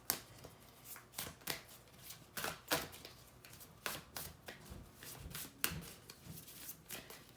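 Tarot cards are shuffled by hand close up, giving repeated riffling rasps and soft slaps in uneven bursts for several seconds, with no voice.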